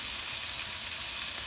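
Beef and tapioca (kappa) bubble in a pot as the heat is turned down, making a steady, close, even sizzling hiss with no pauses.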